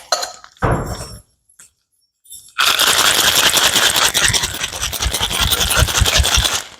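A Negroni cocktail is shaken hard with ice, a loud, steady rattling and clinking of ice against the shaker that runs without a break for about four seconds after a few brief knocks.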